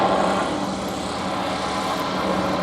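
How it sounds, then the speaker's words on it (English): Aircraft engine thrust roars steadily and loudly at an airshow, a dense continuous rumble with no break and no talk over it. "It's really effective thrust, and you'll see it demonstrated here in a second, Robert."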